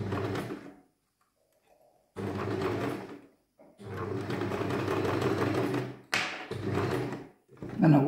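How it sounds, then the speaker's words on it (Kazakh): A sewing machine stitches seams on a pleated two-seam skirt in steady motor runs of several seconds each, separated by short pauses, loud and close. "Міне осылай бірінші тігіп шығамыз бәрін."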